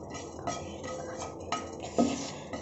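A spoon scrapes and clinks in a pan as cumin seeds are dry-roasted and stirred, with soft rustling and a few sharp metallic taps, close and fairly quiet, no talk.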